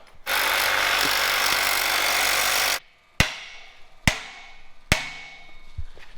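A welded bracket on a bread van being converted for overlanding is cut off with a power tool. A loud continuous cutting whine runs for about two and a half seconds, then three sharp metallic impacts ring out and decay.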